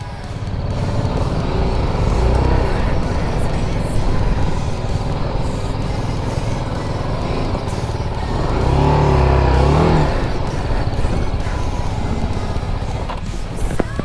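Off-road trail motorcycle engine revving on dirt as the rider gives gas, a steady loud drone that swells to a higher rev midway before settling back, close to the bike.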